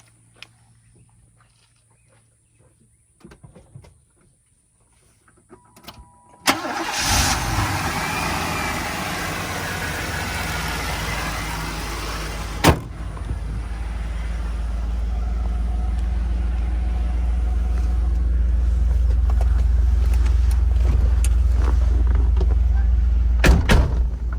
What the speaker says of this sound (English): So we'll get it fired up and go for a drive.